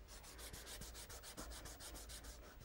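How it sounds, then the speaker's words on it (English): A fingertip rubs and blends pastel on paper in quick, even back-and-forth strokes, a soft rhythmic scuffing that repeats steadily and stays faint and close, with no voices. "So with your finger, just rub the pastel together."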